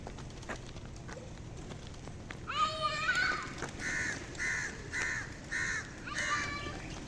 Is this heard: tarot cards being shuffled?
no